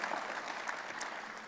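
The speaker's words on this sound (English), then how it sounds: "Let's give them a hand, because those kids are better for it." Brief burst of audience applause at an ONE 2024 mainstage event, steady dense clapping from a large crowd with no voices.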